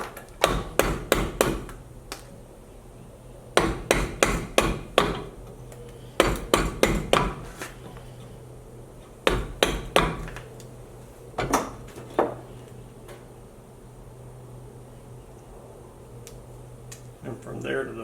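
A chisel strikes and cuts into a wooden Old World Santa figure in clustered bursts of sharp, loud taps with pauses between them, while a person talks throughout.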